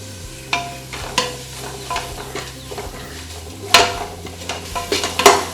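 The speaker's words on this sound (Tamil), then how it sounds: "இந்த புதினா இலை நல்லா ஃப்ரை ஆனோடனே அதுக்கப்புறமா நம்ம பட்டாணி சேர்த்துக்கலாம்" Mint leaves frying in a pan for coconut-milk ghee rice, with ginger and garlic already added, stirred in a steady rhythm: close scraping sweeps over a continuous sizzle, with a few louder clatters toward the end.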